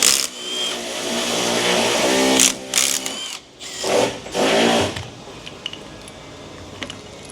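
A power tool whirs and rattles as it takes out the fuel filter bracket bolts on a Duramax LBZ 6.6 diesel engine during a teardown. It runs loud and close for several seconds, with short metallic clinks before it tapers off.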